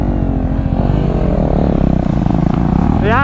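A KTM Duke 390 motorcycle's engine and exhaust drone loudly and steadily throughout, a dense, rumbling note that climbs slightly toward the end as the bike is ridden.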